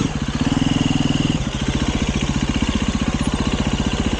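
A KTM motorcycle engine runs close and loud with a fast, even thumping pulse that steadies at a lower idle-like rhythm after a brief higher stretch.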